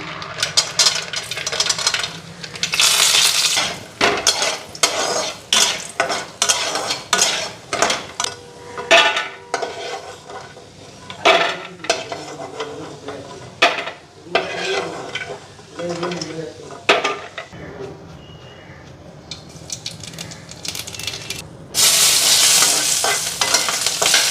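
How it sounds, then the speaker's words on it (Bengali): Bori lentil dumplings fry in a pan with kalo jeera while a utensil stirs and scrapes busily against the metal, making rapid clattering strokes over sizzling oil that swells into a loud, steady hiss at the end. "আগে বড়ি কাটা ভাইজা নিই"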